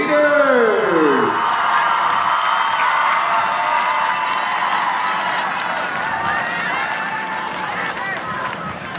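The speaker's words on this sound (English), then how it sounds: "Let's have a warm round of applause" Crowd applause and cheering for high school cheerleaders at a football game, a steady roar of many voices and claps from the stands holding at an even level throughout, with a short whistle-like call at the start.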